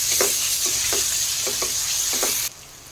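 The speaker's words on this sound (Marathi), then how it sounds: "कांदा थोडा परतला गेला आहे आता त्यात ही आलं लसणाची पेस्ट आहे ती टाकून घेते ती व्यवस्थित मिक्स करून घ्यायची आहे" Ginger garlic paste being stirred into onions frying in a pan, with a steady hiss of sizzling oil and repeated soft scraping strokes of a spoon, close and clear, then the sizzle drops abruptly near the end.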